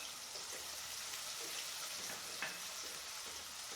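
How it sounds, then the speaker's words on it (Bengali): Onion paste sizzles steadily in a pan while cooking prawn malai curry, a soft continuous frying hiss with faint stirring scrapes throughout. "পেঁয়াজটা একটু ভালোভাবে ভাজা হোক"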